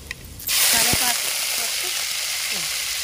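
Garlic and curry leaves hit hot oil and burst into a loud, close sizzle that holds steady for a few seconds, with a brief clink at the start.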